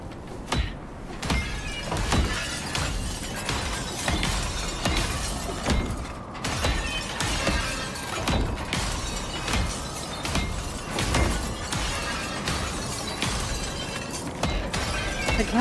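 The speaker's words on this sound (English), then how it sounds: "The glass always sounds so dramatic." Glass shatters in the survival game Icarus in a dense, loud series of crashing breaks and crunches, repeating steadily without any voices.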